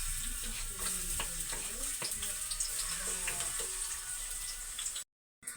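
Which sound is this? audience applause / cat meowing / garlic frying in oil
garlic frying in oil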